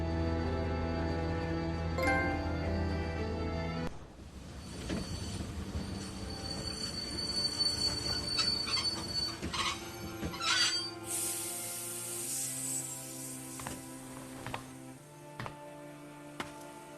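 A train runs in The Walking Dead video game with long metallic wheel squeals and a steady rolling rumble, and brighter screeches come late in the clip. The sound is loud and close, with no talk.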